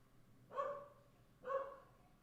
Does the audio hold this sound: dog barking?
yes